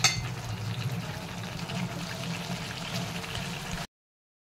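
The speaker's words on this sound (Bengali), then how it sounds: "তো এটাকে ভালো করে কষিয়ে একটু জল দিয়ে ফুটতে দিয়ে দেবো" Cauliflower and potato curry bubbling in a pan after water is added, a steady close watery simmer with soft gurgles and light sizzle, continuous for a few seconds before cutting off.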